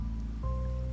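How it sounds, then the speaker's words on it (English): Rain falls steadily in the video game Wuthering Waves, an even wash of drops pattering on surfaces at close range, with a low tonal game hum underneath and no voices. "Rain's back."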